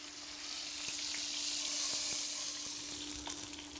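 Lamb neck searing in a hot pan gives a steady, close sizzle and crackle of frying meat, with a faint electrical hum underneath and occasional small pops and stirring clicks.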